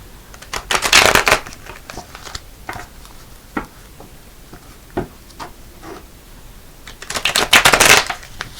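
Tarot cards are shuffled in two brisk riffling bursts, near and crisp, with quiet taps and card handling in between.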